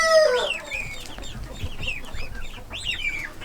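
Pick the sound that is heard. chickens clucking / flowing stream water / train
chickens clucking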